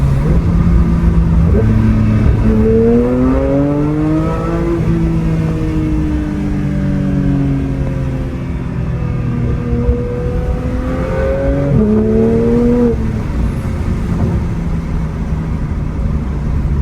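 A Porsche GT3 sports car drives hard with its engine loud and close, revving up through the gears in rising sweeps, easing off, then climbing again, with no talking over it.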